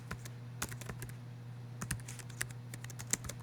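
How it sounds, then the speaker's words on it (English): Keystrokes on a computer keyboard while typing text in a graphics program, a steady run of close, quick clicks with a few sharper taps, alone over a faint low hum. "Just click and drag, and then you can start typing."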